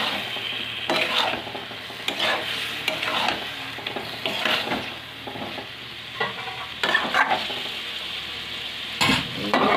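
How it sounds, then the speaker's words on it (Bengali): Mutton sizzles in a pan with a little salt while being stirred, a close frying hiss punctuated by repeated metal spatula scrapes and clanks against the pan, no voices. "হালকা নুন, কিছুক্ষণ নাড়ার পরে ঢাকা দিয়ে রেখে দেবো কিছুক্ষণের জন্য।"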